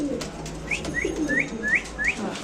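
Mundian pigeons at a market make low coos near the start, then a series of five quick, bright, rising chirps evenly spaced over a couple of seconds, close by, without talk.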